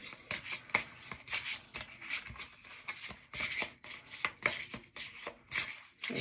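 Gaia oracle cards being shuffled close by, with soft, rhythmic bursts of riffling and rubbing that repeat throughout at a low, intimate volume.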